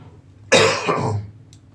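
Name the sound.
cough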